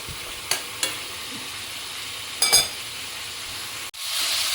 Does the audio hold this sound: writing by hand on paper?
no